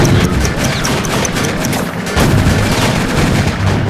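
Explosions and bomb blasts in the Crazy Chicken video game, a dense run of loud booming bursts with crackling debris that carries through nearly four seconds without a clear pause.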